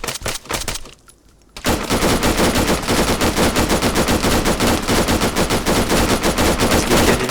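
Automatic gunfire in the ArmA 3 video game, a loud continuous rapid burst of shots rattling on after a brief pause, with someone speaking French over it at the start.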